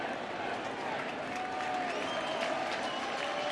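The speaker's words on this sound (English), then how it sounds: "slowly make his way back to the batter's box as this crowd tries to cheer him on" World Series baseball crowd in a stadium cheering and applauding steadily as a batter returns to the box, a dense roar of clapping and voices sustained throughout.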